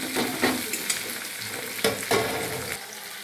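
Chopped tomato fries in a pan with a dense, close sizzle while a spoon stirs it in repeated scraping strokes, some louder than others; no voices.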